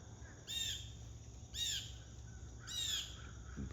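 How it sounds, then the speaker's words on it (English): Three loud, harsh squawks from a blue jay perched among trees on a stormy day, evenly spaced about a second apart, heard close over a steady low rumble of wind and weather. "The blue jay's squawking on the storm."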